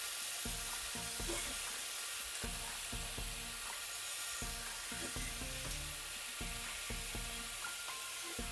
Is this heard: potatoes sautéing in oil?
yes